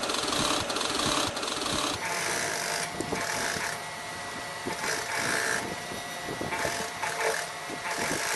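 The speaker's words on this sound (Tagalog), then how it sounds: "Now we will do the second top stitching." A sewing machine top-stitches denim seams in quick rhythmic mechanical bursts, close and moderately loud, with short pauses between runs.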